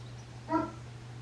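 A single short dog bark or yip, faint and somewhat distant, rising briefly over a steady low hum in a quiet room.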